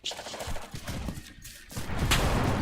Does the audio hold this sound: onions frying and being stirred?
no